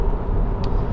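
A Honda Accord 2.4 i-VTEC EX four-door on a road test, heard as a steady low engine and road rumble from inside the cabin, even and continuous with no clear individual events.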